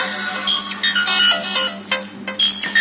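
A Nokia XpressMusic mobile phone ringtone: a bright electronic melody plays in short repeating phrases, loud and close, with a steady low hum beneath.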